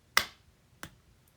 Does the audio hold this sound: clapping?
yes